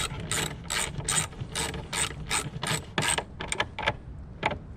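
A hand ratchet tightens a 10 mm tail light bolt on a 2015 Subaru Crosstrek, with short bursts of quick, close clicking separated by brief pauses.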